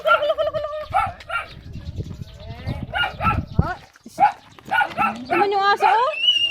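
A dog barks in a repeated run of sharp yelps at a rural farmyard, mixed with other livestock calls and people talking nearby.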